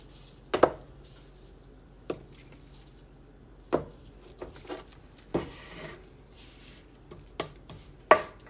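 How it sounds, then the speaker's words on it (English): Knife cutting and trimming squares of cake on a board, a series of sparse sharp taps and soft scrapes with pauses between, close and fairly quiet. "I just cut them and I trim them up"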